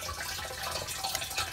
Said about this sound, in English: this side I have my water inlet pipe, which we're filling up